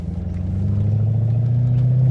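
A 2010 Mercedes C63 AMG on air suspension pulls away, its engine a loud, steady low-pitched drone that rises slightly in pitch and volume as the car sets off, with no talking.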